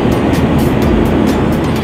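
A Sealdah Humsafar Express, an AC train of sixteen coaches, stands at New Jalpaiguri station under a loud, steady low rumble and hum with faint periodic hissing pulses, and no voices.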